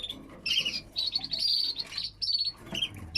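A lipochrome canary kept for breeding chirps in a string of bright, high tweets and short trills. The bursts come close together at close range, with small gaps between them and no speech.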